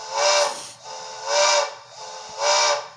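Whistle of a Bachmann K4s streamlined HO-scale model steam locomotive, three loud breathy chime blasts, each about half a second long, in an evenly spaced rhythm with a faint low hum between them.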